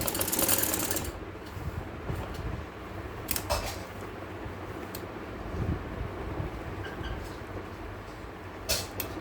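Sewing machine stitching lace piping along the edge of a kameez, a steady close mechanical whirr running throughout with occasional sharp clicks.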